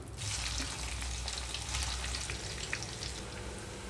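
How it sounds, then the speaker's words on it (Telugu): Pieces of bitter gourd fry in hot oil in a pan, giving a steady, close sizzle that runs unbroken throughout with no one talking. "మిగిలిన ముక్కలను కూడా ఇలాగే వేయించుకుంటున్నాను"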